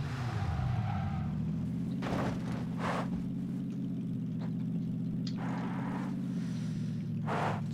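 A car engine in the game PUBG hums low and steady for the whole stretch, a continuous drone with brief louder bursts of other game noise layered on top.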